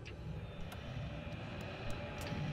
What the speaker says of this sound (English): Now here is a successful jet run for me.